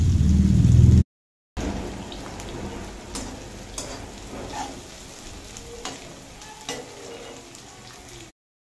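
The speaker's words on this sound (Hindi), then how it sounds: "इसको हम सैलो फ्राई करेंगे" Onions shallow-fry in oil for a veg Hyderabadi biryani, giving a close, steady crackling sizzle like rain on a surface, broken by a brief silent gap near the start.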